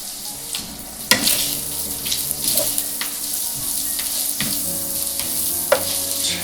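Onions frying in a pan with sausage: a steady close sizzle broken by several sharp clinks and scrapes of stirring, with no talking over it.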